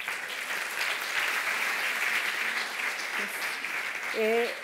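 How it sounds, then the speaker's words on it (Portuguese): Applause from a conference audience at a talks event fills the room as a steady, dense patter of clapping heard from the crowd, with a brief voice near the end. "uma salva de palmas"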